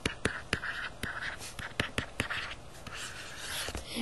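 Handwritten notes scratch and tap across paper at close range, with quick pen strokes and a few sharp taps. The sound is soft and has no talk over it.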